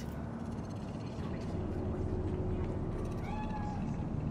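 A cat in the video game Cyberpunk 2077 meows in Night City, a few rising, wavering cries toward the end over a dense, steady ambient game background.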